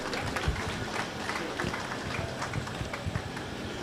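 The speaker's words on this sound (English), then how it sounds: "a round of applause for him" A small audience at a political gathering gives a brief, faint round of scattered clapping in a hall.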